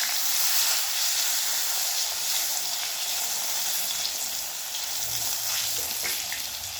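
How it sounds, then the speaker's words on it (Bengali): Eggplant slices deep-frying in hot oil give a steady, dense sizzle and hiss that stays fairly loud and even throughout, with no voices. "বেগুনগুলোকে অবশ্যই ছাঁকা তেলে ভাজতে হবে।"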